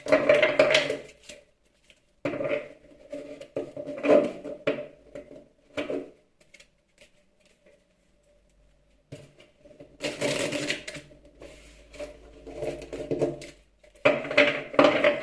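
Tarot cards are shuffled by hand in quick, papery riffling bursts separated by short pauses, close and moderately loud, with no voices.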